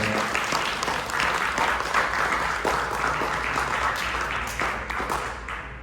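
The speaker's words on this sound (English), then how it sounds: "please give another huge round of applause for our artists" Sustained applause from an audience at a temple event in Lemont, Chicago, honoring performing artists, a dense steady clatter of many hands lasting several seconds and tapering slightly at the end.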